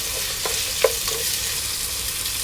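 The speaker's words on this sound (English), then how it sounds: "Let's fry the ginger garlic paste." Ginger garlic paste frying in a pot for home-style chicken dum biryani, a steady soft sizzle with a few brief stirring scrapes, close and alone with no talk.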